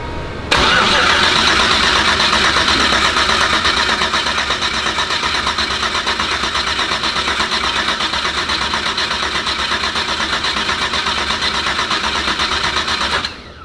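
A car engine fitted with Holley EFI cranks briefly, catches and then settles into a steady, loud idle with an even pulsing rumble up close, then cuts off right at the end; nobody talks.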